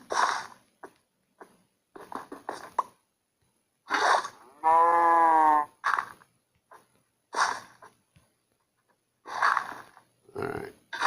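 A cow on a wheat and cattle farm lets out one long, loud, drawn-out moo amid scattered short grunts and snorting bursts, with quiet gaps between the sounds.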